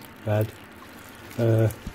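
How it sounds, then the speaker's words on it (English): Water poured by hand over the grain bed of a Brewtools B40pro during a golden ale brew day, in two short bursts of pouring about a second apart, close and clear against a quiet room. "Just pour it in, tickle it in, all over the grain bed."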